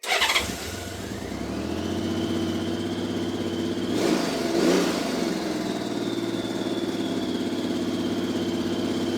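A Honda Valkyrie motorcycle engine with carburetors being synced cranks and catches, then settles into a steady, even idle that runs on loudly, with a brief rise partway through; no voices.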